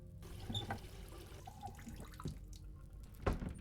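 Water running from a bathtub tap into a bucket in a horror escape video game, a steady moderate splash with a few brief knocks and clunks, no talking.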